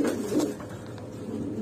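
Pigeons, a blue bar male and an Indonesian female, coo in a close, low, throaty burst that softens into a murmuring rumble.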